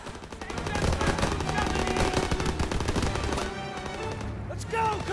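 Rapid machine-gun fire from the Call of Duty WW2 campaign rattles in dense, loud bursts over game sound. The firing eases briefly and then starts again near the end.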